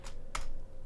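Two quick keystrokes click on a computer keyboard, close and fairly faint against a quiet room hum, the second tap sharper than the first.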